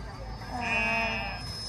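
A Badger-faced Torddu sheep at an agricultural show gives a single drawn-out bleat up close, heard over background chatter and show ambience.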